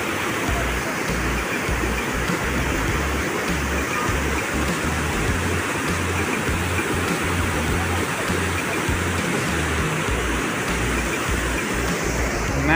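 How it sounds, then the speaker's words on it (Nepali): Torrents of water rush down from above at a bridge in Dharan, a loud, unbroken roar of churning flow with deep rumbling underneath, close and continuous. "माथिबाट पानी आइरहेको छ"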